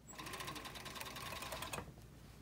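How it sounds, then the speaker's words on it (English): A serger runs steadily through fabric, its rapid mechanical stitching a dense, even chatter up close for about two seconds before slowing and stopping; no voices are heard. "I'm just gonna run this through the serger"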